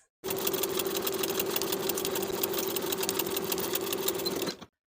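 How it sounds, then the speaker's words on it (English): Sewing machine stitching a coat lining seam with a 5/8 inch allowance, a fast steady whirring hum running continuously for about four seconds, then stopping abruptly. "Sew with a 5/8 inch seam allowance."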